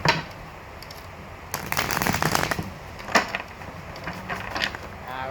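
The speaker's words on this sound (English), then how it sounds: "Last shuffle." Tarot cards being shuffled by hand, a soft papery riffle and flutter in a few bursts with brief pauses between, close and moderately quiet, no voices.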